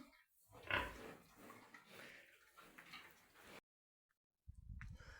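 Soft snuffling grunts and squeals from young pigs, close by, with a brief pause of silence before the grunting resumes.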